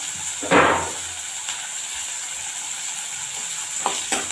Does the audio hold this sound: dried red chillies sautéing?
yes